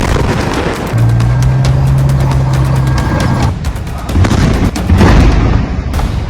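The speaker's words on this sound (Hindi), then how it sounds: "इजराइल का तोप से हमला" Israeli tank cannon and artillery fire in a war zone, heard as a series of loud, booming blasts and sharp cracks over a continuous low rumble, with a sustained hum partway through.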